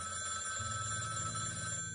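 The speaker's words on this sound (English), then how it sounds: "the phone rang." A telephone rings steadily with a continuous electronic bell tone, fairly faint and alone, with no voices.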